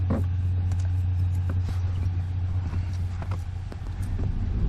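A car drives through the streets of St. John's, Newfoundland, with a steady low road rumble and engine hum and faint passing clatter, heard from inside the vehicle.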